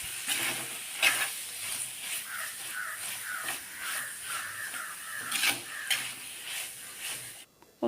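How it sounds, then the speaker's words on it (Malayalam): Clam roast being stirred in a hot pan, a continuous sizzle with scraping stirs and a few sharper clinks, close up and without talk. "അപ്പോൾ നന്നായി ഇളക്കി ചേർക്കുക."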